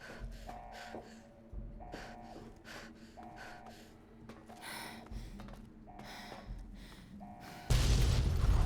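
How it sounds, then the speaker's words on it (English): Repeated low booms and bursts in the video game Fallout recur every second or so, each with a brief tonal blip, ending in a loud sustained blast of noise. "Enough with the explosions already."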